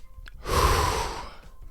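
A single deep breath is released in a long, airy exhale, close and soft, swelling and then fading over about a second.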